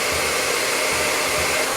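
A handheld blow dryer runs steadily while hair is shaped around a round brush, a loud, continuous airy roar with no speech over it.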